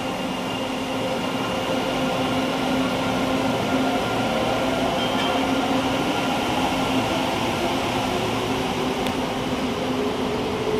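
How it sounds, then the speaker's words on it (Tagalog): A continuous, steady rumble and hum of a moving train, with a constant whirring tone and no voices, loud and unbroken throughout. "Alis na ulit tayo sa tren"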